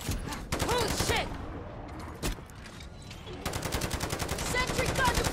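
Rapid automatic fire from a deployed sentry gun in Modern Warfare Zombies, loud bursts of rattling shots separated by a brief lull and a single crack, with a voice calling out between bursts.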